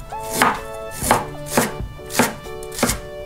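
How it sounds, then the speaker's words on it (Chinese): A knife slices ginger and green onion on a cutting board, giving five evenly spaced, crisp chopping strokes up close. "接着来准备辅料，生姜、大葱切片儿"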